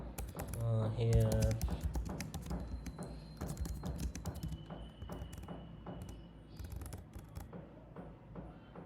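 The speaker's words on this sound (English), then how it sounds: "we can modify the file, type something" A Mac keyboard is typed on in quick, uneven bursts of crisp key clicks, close and fairly quiet, with a voice speaking softly at the start.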